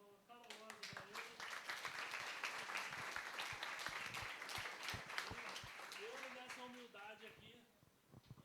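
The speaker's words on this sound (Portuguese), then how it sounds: "Vamos dar uma salva de palmas calorosa para ele." Warm audience applause at a talk on law practice and social media: sustained clapping from a room full of people, fairly soft and distant, with a speaker's voice and cheers audible over it.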